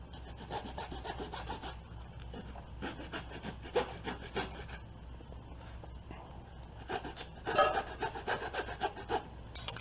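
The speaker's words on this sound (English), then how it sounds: "we're going to take our newspaper log and we're going to cut it up into thirds" A rolled newspaper log is cut into thirds, giving close, rhythmic rasping and sawing strokes with scraping bursts that rise near the end.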